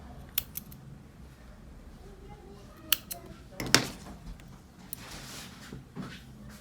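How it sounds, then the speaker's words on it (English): Scissors snipping crochet yarn, a few crisp close clicks and one sharper cutting snap against a quiet room, with a person talking at times. "Cut the yarn."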